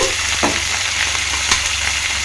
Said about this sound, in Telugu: పచ్చపచ్చగా దంచుకున్న వెల్లుల్లి రెబ్బలు వేసుకొని కొన్ని ఫ్రై కానిద్దాము